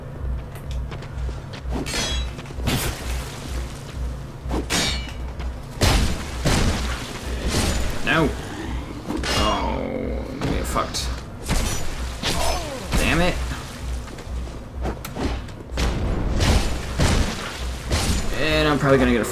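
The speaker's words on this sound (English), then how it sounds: "bomb dropped on my head" A bomb bursting in the game Dark Souls, with heavy booms and crashing, shattering impacts scattered across a busy fight, loud and close amid clanking mechanical game sounds.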